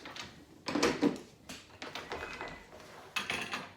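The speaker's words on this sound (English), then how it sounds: "take that top off the kennel" Plastic top of a cat carrier being taken off, a few separate clicks, knocks and scraping plastic sounds close by, with short pauses between handling noises.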